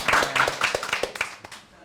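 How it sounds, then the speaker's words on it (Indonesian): A small group claps by hand at a Sundanese stand-up comedy podcast taping in Indramayu, quick irregular claps close to the microphone that gradually taper off over about two seconds. "Oh, tepuk tangan."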